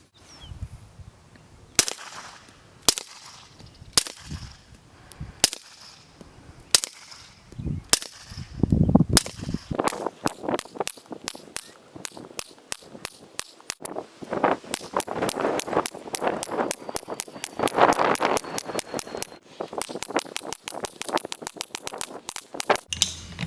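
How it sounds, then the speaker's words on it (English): Suppressed 9mm pistol shots, sharp cracks fired first singly at spaced intervals, then in quicker strings of rapid fire, close and crisp outdoors with no talking. "Just got done shooting the 9mm."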